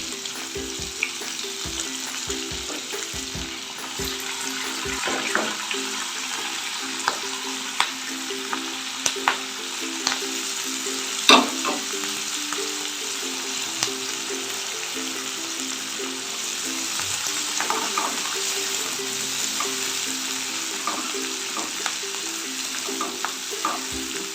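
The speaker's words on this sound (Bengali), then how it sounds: "পেঁয়াজগুলো দিয়ে দেবো আর এরই সাথে পেঁয়াজ কলিগুলো একসাথে দিয়ে দেবো" Onions and spring onion stalks frying in mustard oil with whole spices, giving a steady, dense sizzle throughout with scattered crackles and occasional stirring clicks, close and continuous with no talking.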